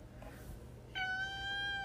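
A house cat gives a single clear, drawn-out meow that starts abruptly after a quiet moment, close and fairly loud against faint room noise.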